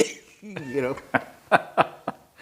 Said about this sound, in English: The lob cough, as we call it.